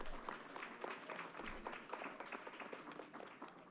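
A crowd at a Yankee Stadium announcement event gives a dense, continuous round of applause for a speaker, heard faint and distant without talk.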